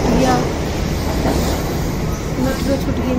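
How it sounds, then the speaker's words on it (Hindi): Metro train pulling out of a station: a steady, loud rumble of wheels and motor fills the whole stretch, with faint clatter and brief high squeals on top and a voice heard beneath. "मेट्रो छूट गई मेरी फ्रेंड्स"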